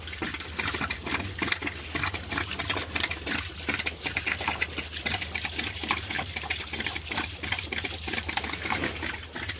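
Water drains steadily from an inground swimming pool's equipment and heater during winterizing, a continuous close gushing and trickling with a dense broadband wash that runs unbroken throughout, no voices.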